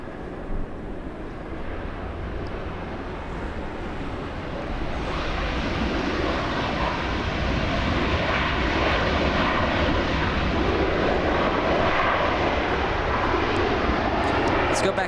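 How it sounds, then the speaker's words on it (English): An American Airlines Airbus A321 jet airliner arriving at LAX from Honolulu, a broadband engine roar that swells from moderate to loud around the midpoint and stays strong, with wind noise on the microphone. "We have American 284 flying in from Honolulu."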